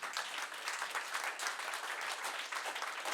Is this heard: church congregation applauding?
yes